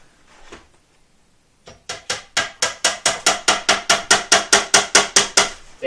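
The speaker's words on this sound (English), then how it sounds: "And this is where it's going to be handy for your hammer." A hammer taps glued wooden dowels into a flat-pack bunk bed in a quick, even run of about twenty sharp knocks, close and loud after a short quiet pause.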